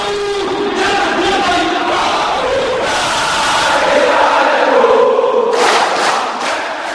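A presidential guard unit packed into an auditorium sings and shouts in unison to welcome Korean Yongmoodo martial artists, a loud, roomy chorus of many voices with swelling cries.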